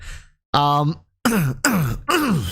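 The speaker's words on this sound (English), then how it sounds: "I am coughing because there's actually something in my throat." A man clears his throat and coughs several times in short, close, harsh bursts separated by brief pauses, with a voiced groan-like sound early on.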